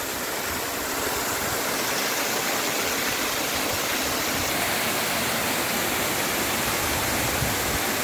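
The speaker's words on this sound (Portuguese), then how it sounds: "Olha ela ali, pessoal, a cachoeira." Steady, loud rush of a waterfall at a natural swimming spot in northeastern Brazil, a dense broadband roar that stays unbroken and close with no voices over it.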